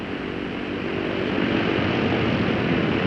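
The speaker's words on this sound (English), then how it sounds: "And so on until all 4 engines have been run up and checked." The four piston engines of a Lockheed Super Constellation airliner are run up before takeoff, making a loud, steady propeller roar that swells slightly and holds without a break.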